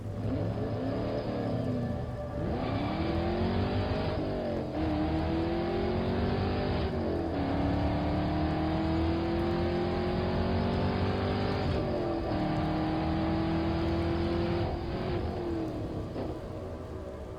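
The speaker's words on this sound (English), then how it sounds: "The Mercedes shot forward faster than I thought it could go." A Mercedes car engine accelerates hard, its pitch climbing steadily through several gear changes in a loud, continuous roar that lasts throughout, with no voices.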